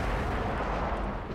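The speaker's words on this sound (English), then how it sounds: "I just hear meteors going off." Meteors exploding in The Elder Scrolls Online, heard as a dense, continuous roar of distant blasts and rumbling impacts, loud and unbroken throughout.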